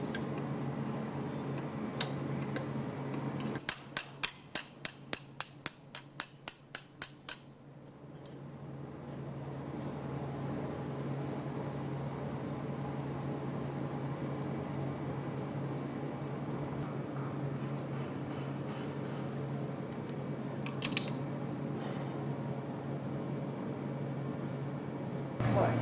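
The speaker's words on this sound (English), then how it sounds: "I'm going to use this long bolt of the same diameter to keep these springs aligned while I clamp down on them." Clamping down on K5 axle springs held in line by a long bolt, heard as a quick run of about a dozen sharp, evenly spaced ratcheting clicks, then a low steady outdoor hum with a faint clink later.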